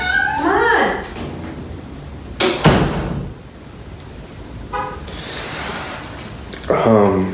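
A house cat meows several times: a rising wail at the start, then more meows later alongside a thump and door-like sliding sounds, with a voice calling to it.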